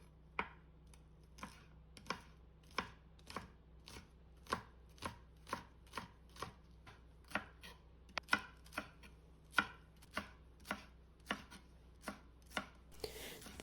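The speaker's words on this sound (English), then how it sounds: "And then I'm chopping up 3 scallions as well." Scallions being chopped with a knife on a cutting board, giving about twenty crisp, evenly spaced chops at a steady rhythm. The sound is close and fairly quiet, with no voices.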